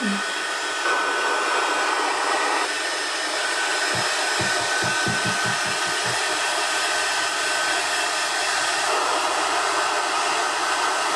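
A hair dryer blows steadily on a painted Santa bust being remade in pink, a loud, continuous airy whir that holds for the whole stretch with a few low thumps partway through.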